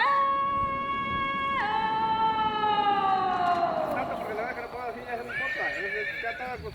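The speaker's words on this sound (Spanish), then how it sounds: "Estamos a la salida de Pisba con el coronel Bautista en la repartición de los nuevos caballos y mulas." Horses and mules being handed out at the exit of Pisba whinny in a long, loud neigh that falls in pitch. Hoof clops and further whinnies follow.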